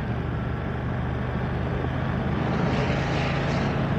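A BMW F900R naked motorcycle on a test ride, its engine droning steadily and loudly with heavy wind rush, the pitch rising slightly toward the end.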